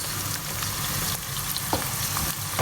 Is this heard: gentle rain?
no